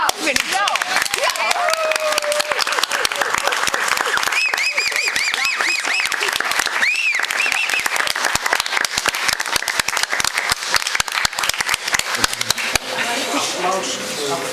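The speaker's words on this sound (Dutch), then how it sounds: "Moeten we niet even klappen voor het voor de kunstwerken? Ja, eerst een applaus." Loud, dense audience applause for artworks, continuous crisp clapping from a nearby crowd with a few voices and whoops rising over it, lasting throughout.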